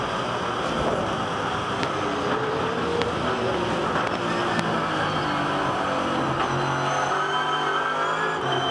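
A V8 Supercar racing around Bathurst in the 2010 Bathurst 1000, its engine a steady, close, continuous roar with pitch sweeping up and down as the car accelerates and changes gear; no talking.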